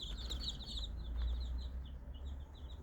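Many chicks sunbathing in a garden cheep in high, rapid peeps, a continuous overlapping chorus over low background rumble, fairly quiet and with no talking.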